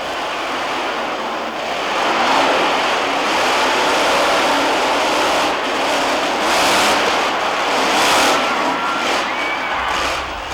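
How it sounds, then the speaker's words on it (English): Bigfoot monster truck roaring at a monster truck competition, a loud, sustained broadband engine rumble with surging swells and crowd-like wash throughout, steady and near. "While the crew prepares Bigfoot for tonight's monster truck battle"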